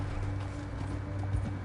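Horse hooves clip-clopping in the video game Red Dead Redemption 2, a steady rhythmic trotting under a constant low rumble of background game sound, short and fairly close.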